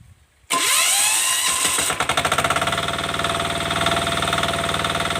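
A 12 hp diesel water pump engine is hand-started. After a brief quiet moment it suddenly roars, then settles into a loud, pulsing idle knock with a steady rhythmic beat, close by and with no talk.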